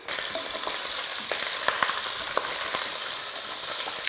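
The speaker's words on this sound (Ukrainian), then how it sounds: "Олія розігрілась, і тепер ми кидаємо сюди м'ясо" Beef pieces fry in hot oil, added in batches to brown for an Eintopf stew, giving a continuous close crackling sizzle with occasional pops and light stirring, no voices.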